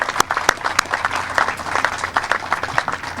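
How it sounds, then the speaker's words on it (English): Audience applauding at a bill signing ceremony for a climate act, a steady wash of many hands clapping with sharp individual claps standing out, close and loud, with no talk over it. "Give her a round of applause."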